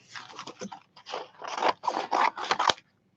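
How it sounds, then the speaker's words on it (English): Large scissors snip through tissue paper in a rapid series of close, crisp crunching cuts, a dozen or so bursts with brief pauses, heard alone without speech. "Where's my big scissors?"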